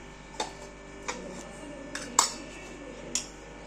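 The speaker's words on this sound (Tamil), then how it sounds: "அங்க ஒரு உப்பு ஜார் இருக்கு, அது நான் எடுத்துக்கிறேன்." Salt jar picked up in a home kitchen: a few light glassy clinks and taps spaced irregularly over a quiet background, one slightly sharper knock standing out in the middle.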